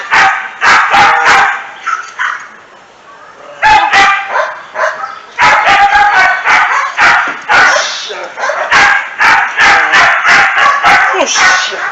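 During a dog training session, a dog barks loudly and repeatedly in rapid bursts with brief pauses, close by and dominating the scene, mixed with some yips and whimpers.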